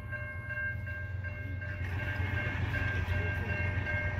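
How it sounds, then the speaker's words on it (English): A CN freight train, led by an AC44C6M unit, rolls through the St Ambroise Street crossing in Montreal in light rain, its deep rumble steady under ringing crossing-bell tones, growing slightly louder. "And here we got a freight train finally."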